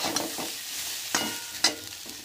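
Oil sizzles steadily in a pan of frying vegetables while a utensil scrapes and stirs a few times, producing brief clattering accents over the hiss.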